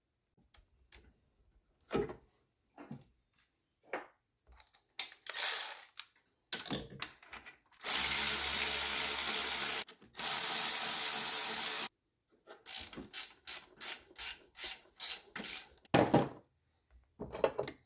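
Ratchet tightening bolts on a Chevrolet Trailblazer engine during thermostat and clutch fan work: close, sparse clicks and short mechanical bursts, then two sustained whirring runs of a few seconds each, followed by rapid repeated clicking.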